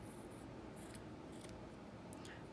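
Scissors trim the yarn fringe of a knitted baby sleep sack, giving several quiet, crisp snips spaced irregularly over soft background hiss.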